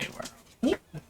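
A small female dog whimpers in a few short, high whines, close by, with some background noise during a Farming Simulator 19 stream.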